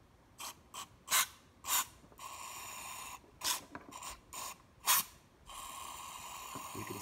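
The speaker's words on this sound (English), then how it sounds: "We're going to go ahead and spray it with the carb cleaner" Short bursts of hissing aerosol carb cleaner sprayed onto an oxygen sensor, about ten spurts of varying length with pauses between, close by and otherwise quiet.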